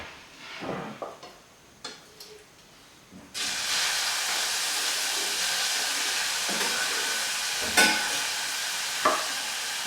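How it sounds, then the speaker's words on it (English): Grated onion hits warm oil in a pan: a few light clicks and knocks, then a loud, steady sizzling hiss starts suddenly and carries on close up, with occasional sharper spits. "The grated onion is going to go into a pan with some warm oil"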